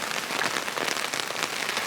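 Steady rain falling on a walker's poncho along the Camino de Santiago, a dense close patter of drops continuing without a break.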